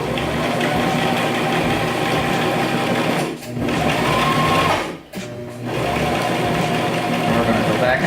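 A sewing machine stitches steadily and loudly up close while repairing torn trousers, running continuously with two brief pauses as the stitch goes back and forth to lock the thread.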